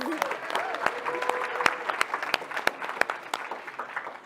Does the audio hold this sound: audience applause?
yes